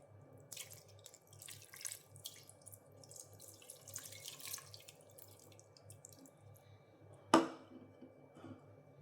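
Water is poured into a beef curry with potatoes, a soft running trickle followed by one brief, sharp splash.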